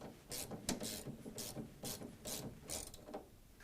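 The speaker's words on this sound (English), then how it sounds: "I'm going to go ahead and put a quick tighten on that." A ratchet wrench quickly snugs a bolt on a shock tower export brace of a classic Ford Mustang, giving a run of rapid, close mechanical clicks in short bursts with no talking.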